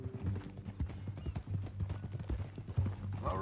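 Horse hooves clip-clop steadily at close range in Red Dead Redemption 2, with a brief whinny near the end over a low background hum.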